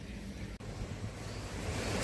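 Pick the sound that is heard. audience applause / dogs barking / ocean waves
ocean waves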